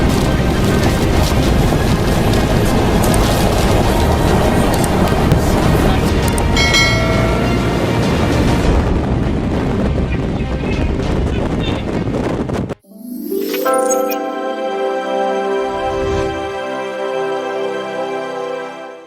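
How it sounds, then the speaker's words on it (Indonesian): Tornado winds roar as a loud, dense wall of broadband noise for about 13 seconds, then cut abruptly into steady tonal music. "Berikut beberapa kejadian angin tornado yang terekam kamera."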